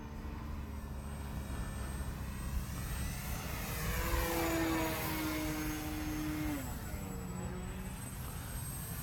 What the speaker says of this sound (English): I didn't see him, but I can hear his engine.